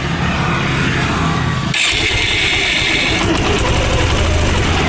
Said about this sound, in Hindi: गाड़ी कंप्रेसर आ गया, गाड़ी बाइक स्टार्ट होने लगा।